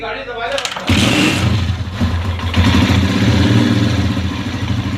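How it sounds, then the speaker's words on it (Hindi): A Honda CG 125 motorcycle engine cranks and catches about a second in, then settles into a steady, close idle with a mechanical clatter that carries on through the end. "अभी बाइक को स्टार्ट करते हैं।"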